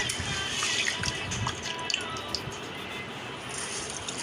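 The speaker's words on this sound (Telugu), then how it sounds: "బియ్యాన్ని మినపప్పుని కడుక్కొని మంచిగా వాష్ చేసి పప్పు బియ్యాన్ని మంచిగా కడుక్కోవాలి" Rice and urad dal are washed by hand in water, with sloshing and splashing and small drips as the grains are swirled and rinsed close by, with no talk.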